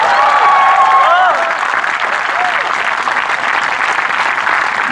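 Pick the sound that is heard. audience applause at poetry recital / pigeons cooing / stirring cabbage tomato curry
audience applause at poetry recital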